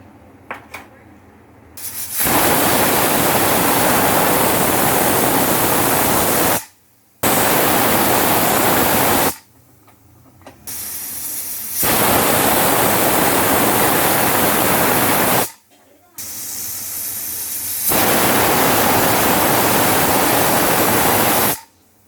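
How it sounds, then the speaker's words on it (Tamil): Loud hissing steam bursts from a pressure cooker whistle cooking squid gravy, in long, sustained blasts, four of them separated by short quiet gaps. "இப்போ ஒரு 4-5 விசில் வரணும்."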